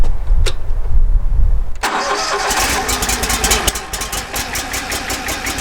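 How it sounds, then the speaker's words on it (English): The engine of a firewood processor cranks for a moment, catches, and settles into a loud, rapid-firing idle close by. "Let me get this processor fired up, let it warm up for a few minutes"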